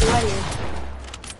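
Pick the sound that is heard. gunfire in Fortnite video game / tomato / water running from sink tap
gunfire in Fortnite video game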